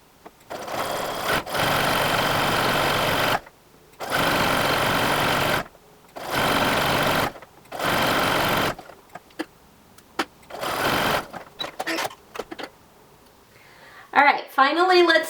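A sewing machine zigzag-stitching elastic onto underwear fabric runs in several loud, close bursts of rapid whirring separated by short pauses, with a brief voice and handling noise near the end.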